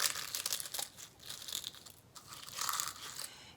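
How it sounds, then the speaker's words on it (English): Eggshells crushed by hand in a bowl give off dry, crackly crunches in quick irregular bursts, quiet and close, with a few brief pauses between handfuls. "I just come along and crunch the shells"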